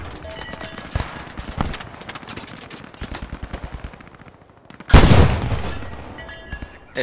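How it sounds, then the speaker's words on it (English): Tank heavy machine gun firing in the war game Post Scriptum, rapid bursts of loud rattling shots followed by a heavy boom and crackling gunfire, with no talk. "Now the tank is shooting heavy machine gun."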